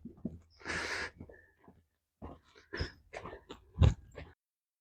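A dirty dog on a farm makes a series of short snorts, huffs and breathy sneezes, close by, in irregular bursts separated by brief pauses.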